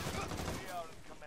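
Short burst of rapid gunfire in Modern Warfare, a few quick snapping shots fired close together at moderate level, lasting barely more than a second.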